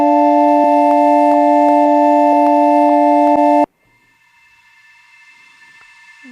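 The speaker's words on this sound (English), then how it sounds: "So I recorded some kind of flute sound." A recorded flute sample, played dry without effects, holds a sustained tone with a few subtle articulations, then cuts off abruptly, leaving near silence.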